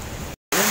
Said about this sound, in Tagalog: Inabot na kami ng ulan at dito muna kami sumilong sa may batok.